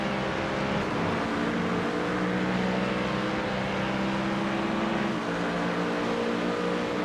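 GT3 race cars in iRacing at Silverstone, engines droning steadily as one car overtakes another, a continuous sustained engine tone with a pitch shift partway through, no talking.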